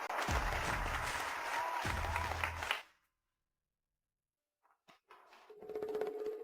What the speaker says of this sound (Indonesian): Mari kita sambut dengan tepuk tangan meriah